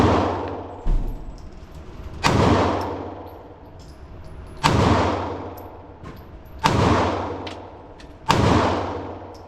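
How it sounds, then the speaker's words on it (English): Five sharp pistol shots from a Kimber Micro 9 ESV fired at 7 yards, spaced a couple of seconds apart, each loud crack trailing into a ringing outdoor decay with no talking. "Shooting a couple more rounds, 7 yards."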